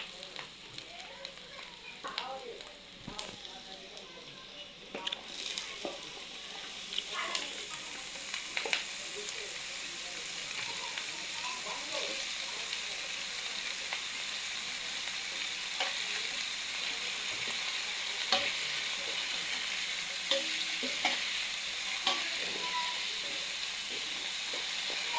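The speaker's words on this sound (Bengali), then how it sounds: "বন্ধুরা দেখুন পেঁয়াজগুলো ভাজা হয়ে গেছে, কপিগুলো দিয়ে দেবো শুকানো" Cauliflower and fried onions sizzle in a pan, a soft continuous sizzle near at hand punctuated by frequent scraping stirs and occasional clacks of the spoon, with no voices.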